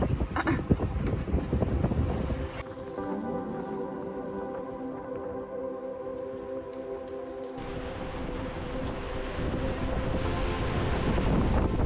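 Wind from a squall at sea during an Atlantic sailing crossing buffets the microphone in a steady roar, easing briefly in the middle, then swelling louder with water noise toward the end.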